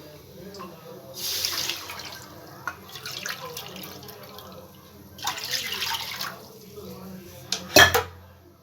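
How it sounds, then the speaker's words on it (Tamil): Water splashes and trickles into a pan in a kitchen, with clinks of cookware and a sharp metallic clatter near the end. "ஒரு பேன் வச்சுருக்கேன் ரெண்டு கப் தண்ணி ஊற்றிக்கலாம்"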